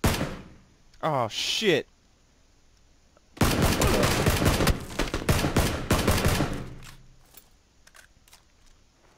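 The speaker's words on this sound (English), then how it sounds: "I think I can hit him with a sniper." Loud, sharp gunshots in a video game ring out: a short cluster of cracks, then a denser run of repeated blasts lasting a few seconds before fading, with a player's voice swearing briefly.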